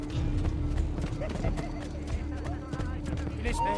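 Horse hooves clip-clop steadily at a riding pace in the Assassin's Creed II video game, a close, continuous rhythmic clatter under an ongoing voice and game background sounds.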